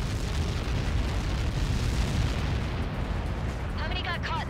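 Missile impact explosion in the Ace Combat 7 flight game, a loud sustained rumbling blast roar filling the whole stretch, with radio voice chatter rising near the end.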